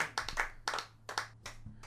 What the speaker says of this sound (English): Everybody give a round of applause for Dominic Robron.